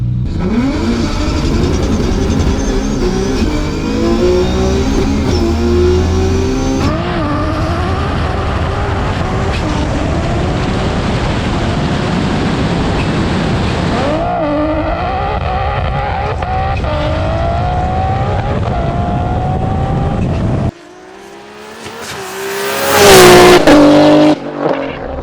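An 1100hp R32 Skyline GTR street car doing burnouts, its engine roaring and revving hard for a long stretch with shifting pitch, then surging into a louder screaming rev with tire squeal near the end, loud and close.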